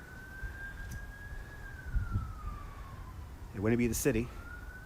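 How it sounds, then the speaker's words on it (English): An emergency vehicle siren wails on a highway along Brooklyn's Belt Parkway at night, a steady rising and falling tone at a distance, with a voice briefly speaking over it near the end. "This siren sounds like it's on the highway along the Belt Parkway"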